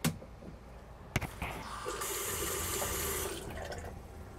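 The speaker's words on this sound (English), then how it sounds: "turn on the pump and then run a little bit of water to see." Water running from a bathroom tap in an RV with the Flow Max fresh water pump switched on, a steady close rushing flow with a low hum underneath after a couple of clicks.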